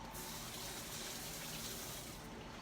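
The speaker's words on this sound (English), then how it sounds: "Let me rinse my hands because they are a bit oily." Water runs steadily from a kitchen tap into a sink as oily hands are rinsed, a constant splashing hiss that is faint but continuous throughout.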